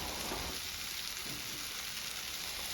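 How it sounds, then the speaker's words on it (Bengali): Young jackfruit and fried potatoes sauté in spice paste in a pan, giving a steady, close, continuous sizzle and crackle with light stirring scrapes. "এবার আমি আরও একটু ভালো করে কষে নিচ্ছি।"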